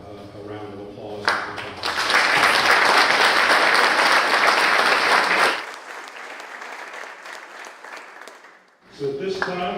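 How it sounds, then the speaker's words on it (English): Audience applause at a virtual programs completion ceremony, swelling into a dense, loud burst of clapping for several seconds before fading out, with softer sound and voices around it. "Please give them a round of applause."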